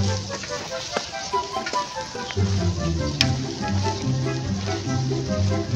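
Crabmeat fried rice sizzles and crackles in a rice cooker while being stirred, with a steady frying hiss, scraping and occasional clinks, up close, with background music beneath and no speech over it.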